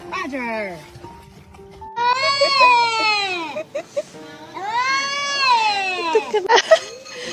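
A chubby pet cat meows loudly in a series of drawn-out, wavering cries close by, interleaved with people talking.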